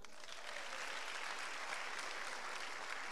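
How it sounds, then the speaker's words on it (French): Church congregation applauding together, a steady dense wash of clapping that holds evenly for a few seconds, fairly distant and uniform with no voices standing out. "Oh, acclamons pour eux."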